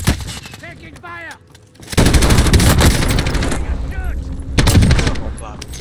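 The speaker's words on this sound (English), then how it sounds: "Taking fire." Heavy automatic gunfire in Call of Duty Warzone bursts in loudly after a short pause, continuing as rapid overlapping shots with voices heard faintly at the start.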